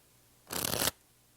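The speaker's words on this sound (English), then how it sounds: "And that's the in the hands riffle shuffle." A deck of playing cards is riffle shuffled in the hands, producing a single close, crisp burst of rapid fluttering card snaps lasting under half a second against near silence.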